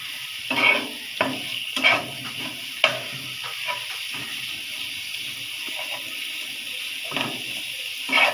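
Onion, green chili and coriander leaves pan-roasting, a soft steady hiss broken by occasional scraping and tapping stirs, close but quiet, with no speech.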